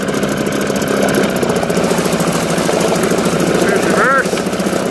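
A Mercury 4.5 outboard engine mounted on a 1977 MacGregor 6.4 meter sailboat runs steadily in reverse, a loud continuous close-up drone with a brief whine of gear shifting near the end.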